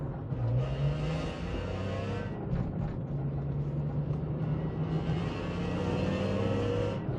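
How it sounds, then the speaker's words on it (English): A BMW E46 M3 CSL replica with a 350bhp engine revs hard while driving, its exhaust heard from inside the cabin as a loud, continuous rasping drone that rises and falls in pitch, briefly dipping near the middle before climbing again. "It's really coming through into the cabin, that exhaust."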